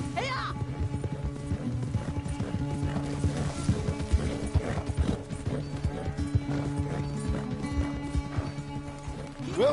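Rhythmic hoofbeats of a horse galloping in Red Dead Redemption 2, steady and close, under a droning musical score with a whinny near the start.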